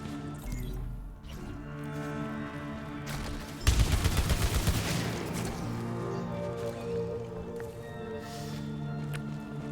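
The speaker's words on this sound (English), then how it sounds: "we just got this Xenotype weapon. It's a good thing that it doesn't require any kind of tentacles to fire." The Xenotype alien weapon firing in Returnal: a sudden rapid burst of shots fires a third of the way in, then rings out and fades over a steady low ambient drone.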